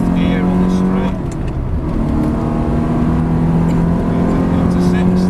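A Ferrari 360 or Porsche 996 Turbo accelerating on a race track in fifth gear, a steady engine drone with a rising tone, heard from inside the car with a driver talking over it.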